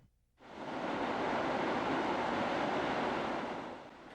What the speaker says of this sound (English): Yakutat gets some pretty good waves pounding on their shores